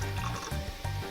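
Water poured into a pot for simple syrup, a short close liquid fill with gurgling pulses, nearly alone and fairly quiet.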